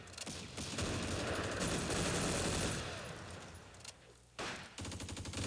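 Dense bursts of rapid small-arms and machine-gun fire crackle through a Close Combat wargame battle on Crete, continuous and loud for several seconds before thinning into a few scattered shots.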